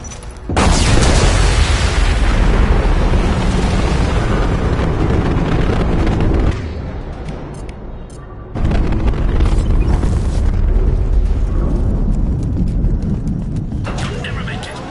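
A huge explosion in Mass Effect roars out as a loud, sustained rumbling blast, dips briefly, then surges again into a long, heavy roar that fades slowly.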